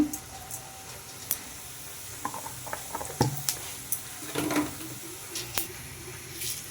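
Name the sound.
cumin seeds sizzling in oil in an iron wok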